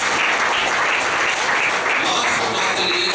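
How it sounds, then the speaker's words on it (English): An audience at a speech evaluation session claps loudly and continuously, a thick, sustained round of applause with no talk over it. "Please give Rajesh and Prakash a big round of applause."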